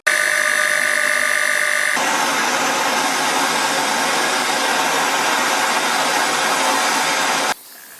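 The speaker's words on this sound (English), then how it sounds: "Drill holes into the BMX sprocket and also widen the hole of the BMX sprocket" A power drill bores holes into a metal BMX sprocket, a loud continuous whine that shifts pitch after a couple of seconds, holds steady under load, then cuts out near the end.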